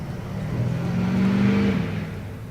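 A car engine revs at an outdoor celebration event, rising to a sustained mid-pitched roar and then easing off, moderately close with faint crowd ambience behind it.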